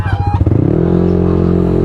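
Nasal honking calls from waterfowl in quick bursts at first, then a steady droning hum carries on underneath.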